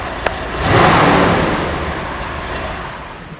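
A big V8 engine revs up loudly, swelling to a deep roar and then settling into a steady rumble close by.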